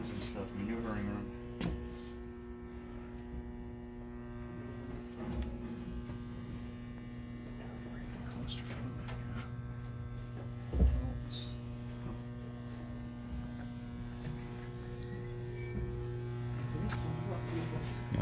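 Steady electrical mains hum with a faint buzz inside the Growler submarine at the Intrepid Museum, a constant low drone under occasional talk and small handling knocks.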